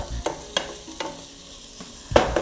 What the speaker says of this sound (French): On va bien mélanger le tout maintenant.